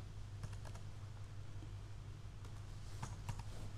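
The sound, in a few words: typing numbers on a computer keyboard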